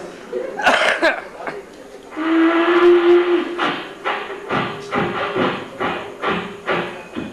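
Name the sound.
train approaching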